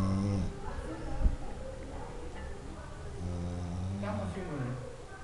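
A drunk man snoring, with low, rough, drawn-out breaths repeating at a slow rhythm close by, while a voice talks over part of it.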